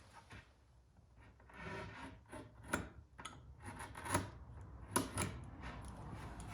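Wood edge banding on a cabinet being trimmed by hand, giving scraping and rasping strokes in an irregular rhythm, with a few sharper scrapes standing out, close by and moderately quiet.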